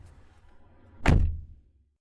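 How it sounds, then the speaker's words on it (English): A touring car draws up at the door of a glen inn, with a low engine rumble followed by a single loud thud like a car door shutting, then fading quiet. "It drew up at the door, and there was the sound of people alighting."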